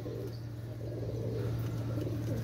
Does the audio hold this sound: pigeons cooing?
yes